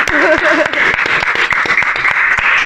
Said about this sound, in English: I think we can clap to that now.